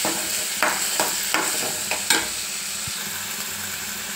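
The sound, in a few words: tomato pieces frying and being stirred in a pan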